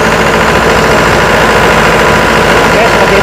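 A car engine runs at a steady idle throughout, a constant loud mechanical rumble with no start-up transient, heard during an oil pressure switch check.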